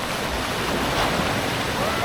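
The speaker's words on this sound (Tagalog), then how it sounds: "mababasa ka niya kasi malakas yung ano, yung alon" Surf at a tidal pool in Casiguran, Aurora, a steady washing rush of waves with wind noise on the microphone across the whole short stretch.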